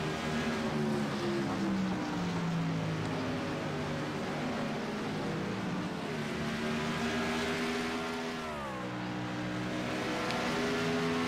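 Race cars roaring through the esses at Watkins Glen in a racing video game, a continuous loud engine drone with pitch sweeping as the cars shift and accelerate.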